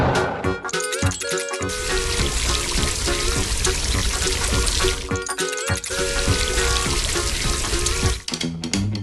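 Heavy rain pours steadily over a construction site in a cartoon, a dense continuous hiss and patter with brief dips and a busy layered soundtrack underneath.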